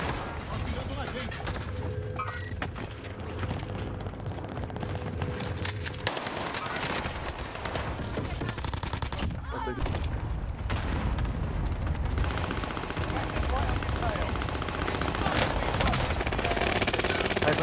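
Enemy gunfire in a shooter video game, sustained automatic bursts and explosive rumble running throughout under excited talk from players.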